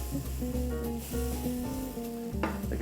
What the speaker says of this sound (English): check on your onions so they're getting a nice sort of translucent colour, and then they're browning off of the edges